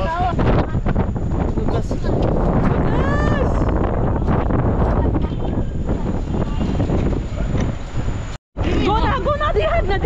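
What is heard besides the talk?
strong wind blowing into the microphone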